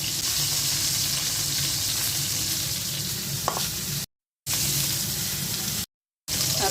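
Rohu fish pieces fry with onion, garlic, green chilli and salt in a pan, giving a dense steady sizzle at close range with a faint stir or two, cut by two brief silent gaps.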